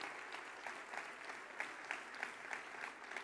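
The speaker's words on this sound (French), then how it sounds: "Merci à toutes et tous ce soir, une fois encore, de les applaudir" Audience at a French political rally applauds steadily, a dense wash of clapping with rhythmic bursts, moderately distant and with no speech over it.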